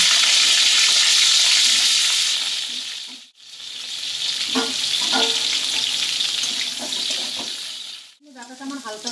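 Moringa drumsticks (sajne data) fry in a pan for a Bengali mixed-vegetable curry: a loud, steady hiss of hot oil with scattered clinks of stirring, cut by two brief near-silent breaks.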